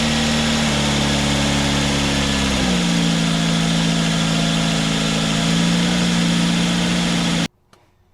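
A Ford Focus ZX3 project car engine runs steadily after a jump start, a loud continuous idle hum with a slight pitch shift partway through, then cuts off abruptly near the end.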